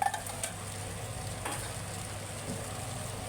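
Sliced chili and garlic stir-fried in a hot pan, a steady close sizzle with soft scraping stirs and a few clacks at the start.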